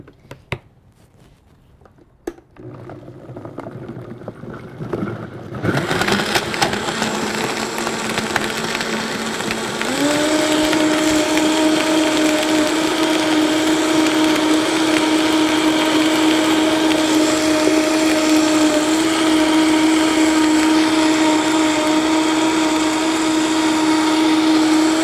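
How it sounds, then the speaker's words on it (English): A countertop blender whirs up almond milk with dates and a dash of cinnamon, starting with a few bumps and clicks before the motor kicks in loud and steady, then settling into an even, higher-pitched drone. "We're gonna blend."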